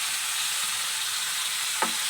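Onion paste frying in a pan with lightly fried chopped onions for a broccoli fish curry makes a constant, even sizzle, with a single brief stir or clink near the end.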